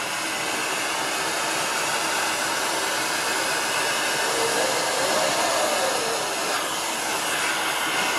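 A bench vacuum runs with full suction, giving off a loud, steady, broadband whooshing whine close by, constant throughout with only slight shifts in tone.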